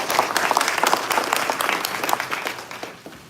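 A crowd gives a loud round of applause for the American Legion of San Diego at a civic gathering, sharp individual claps standing out before the clapping thins and fades toward the end.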